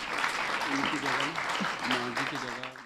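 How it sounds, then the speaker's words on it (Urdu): Applause at a Bible college convocation ceremony in Pakistan as a best-student award is announced, a brief spell of clapping from the audience with a voice speaking over it. "آپ کی بھرپور تالیوں میں"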